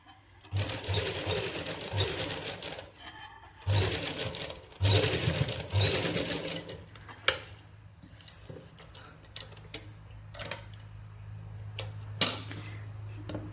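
Sewing machine stitching a cap onto a toddler's winter baby suit, with several bursts of steady close-up whirring separated by short pauses, then lighter intermittent stitching and clicks.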